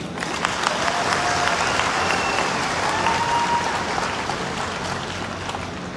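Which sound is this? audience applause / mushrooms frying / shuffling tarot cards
audience applause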